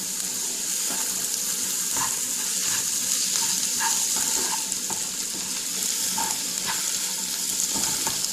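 Masala stirred and frying in a pan for a Kerala chicken roast: a steady, close sizzle with repeated scrapes and clicks of the spoon against the pan, and no voices.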